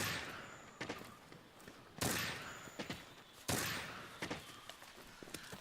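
A light or heavy bowgun in Monster Hunter: World fires pierce ammo, three sharp booming shots about 1.5 seconds apart, each followed by a string of rapid smaller hit impacts as the bullet travels.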